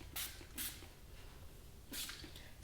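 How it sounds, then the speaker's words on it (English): Living Proof Restore Perfecting Spray, a UV and heat protectant, misted onto hair in three short hissing bursts: two quick ones close together, then a slightly longer one after a pause, all close and fairly quiet. "I am going to be applying my Living Proof Restore Perfecting Spray, and this is a UV and heat protectant."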